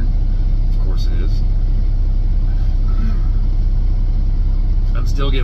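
A NASCAR team hauler truck rolls in to park at Pocono, a steady low engine rumble lasting the whole stretch, with faint voices in the background.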